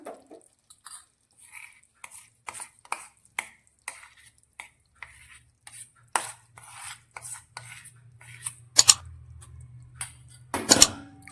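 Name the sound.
mixing ground peanuts into melted jaggery in a pan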